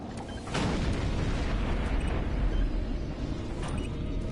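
A bridge being blown up in Doom 3, a deep sustained rumbling roar that kicks in suddenly and keeps booming loudly to the end, with faint mechanical tones over it.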